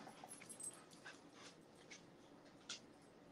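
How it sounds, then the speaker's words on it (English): A dog pants softly nearby, quick breathy puffs running steadily with a few faint whimpers, no talking. "Can you hear my dogs panting?"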